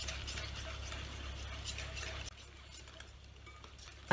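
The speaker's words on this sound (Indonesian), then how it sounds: "Diaduk-aduk sampai halus ini ya, sampai tercampur merata" Spoon scraping steadily through batter as flour is stirred in for kue talam ketan srikaya, a continuous close rasping swish that drops quieter midway.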